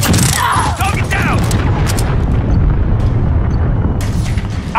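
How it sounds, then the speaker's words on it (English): A cruise missile explosion in Call of Duty Modern Warfare lands as a loud, sustained rumbling blast with crackling debris. Gunfire and brief radio-style voices sound around it. "Enemy cruise missile incoming."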